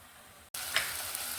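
Masala sautés in a pan for paneer butter masala, a steady close sizzle that starts abruptly after a brief cut and carries on with no talking.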